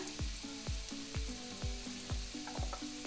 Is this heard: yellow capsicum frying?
yes